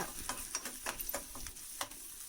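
Onions and green chillies fry in a pan for fried rice, a soft sizzle broken by light rhythmic scraping and stirring strokes, close and fairly quiet.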